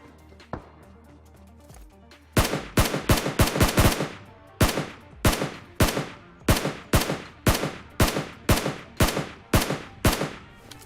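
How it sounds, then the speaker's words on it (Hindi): Gunfire in the video game PUBG Mobile: after a few faint clicks, a loud, close burst of rapid shots gives way to a steady run of evenly spaced single shots, each with a short echoing tail. "अभी सामने एक बंदा ना टैप टैप फायर कर रहा था, तो उसे भी मारेंगे पहले।"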